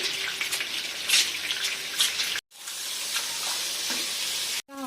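Eggs frying in oil with salt and turmeric give off a steady, close sizzle, with two short breaks where the sound cuts out and then resumes.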